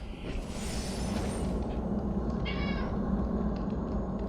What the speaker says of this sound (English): With a cat.